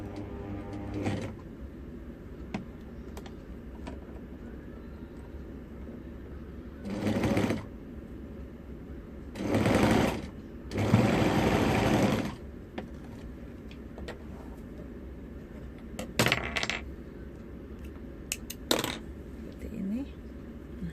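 A sewing machine stitches a zipper seam for a zipper accordion, running in several short bursts of whirring stitches separated by pauses, with faint handling noises in between.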